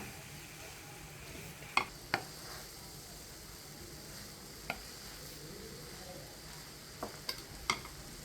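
Cooked kuruva rice is stirred into tomato masala in a pan over a soft, continuous sizzle. A few sharp clicks of a spoon against the pan break through now and then.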